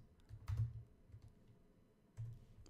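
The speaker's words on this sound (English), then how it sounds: "I'm gonna type in Salt Lake City dentists" Keys on a computer keyboard are tapped quietly to enter a search, with a few soft clustered bursts of typing separated by a pause.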